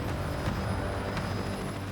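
A helicopter flies with small barrel capsules suspended beneath it, a steady, dense, loud engine and rotor roar filling the whole clip without any break.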